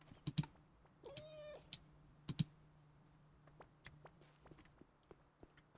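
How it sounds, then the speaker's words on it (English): A cat in the cozy game Luma Island gives a short rising meow while being petted, faint and close among soft footstep and click sounds, alone without talking. "Always gotta pet the kitty."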